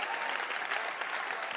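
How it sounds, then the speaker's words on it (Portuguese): A church congregation in Mampong, Ghana claps together in praise for Jesus, a dense, even burst of applause throughout at moderate loudness. "Por que você não bate palmas para Jesus?"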